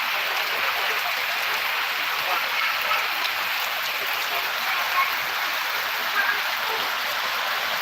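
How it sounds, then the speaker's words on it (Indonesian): Heavy rain falling outside a house where a tunnel tent is being put up, a dense, steady hiss of drops on surfaces that holds at an even level throughout. "hujan deras ya teman-teman."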